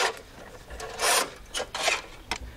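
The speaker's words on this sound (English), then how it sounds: "start pulling it through" A rusted car hood release cable with peeling plastic sheathing is pulled out in short, close bursts of scraping and rubbing, several separate drags with quiet gaps between them.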